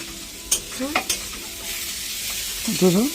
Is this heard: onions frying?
yes